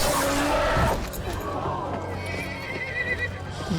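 A horse neighs loudly in a Game of Thrones scene, a strong whinny at the start giving way to hoof clatter and dramatic scene noise, with faint voices.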